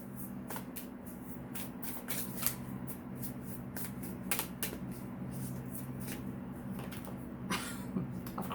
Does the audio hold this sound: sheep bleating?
no